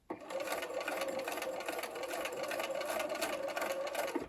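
A sewing machine runs steadily, stitching quilt fabric for a faux double sawtooth star block, its fast even needle whir close and continuous for several seconds without talk.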